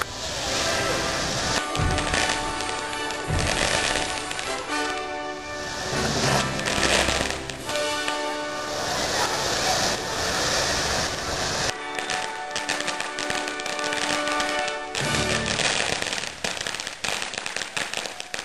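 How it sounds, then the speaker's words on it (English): July 4th fireworks in 2007: a dense, continuous crackle of firecracker-like pops and bursts, loud and close, sustained throughout with brief dips in intensity. "That's better fireworks!"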